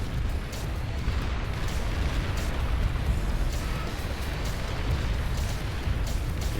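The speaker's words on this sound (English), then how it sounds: "That is just a withering amount of plasma fire going into Bing Bing Bang's forces." Dense, continuous barrage of plasma fire and explosions in the Beyond All Reason strategy game, a steady roaring wall of booms and bursts with no let-up throughout.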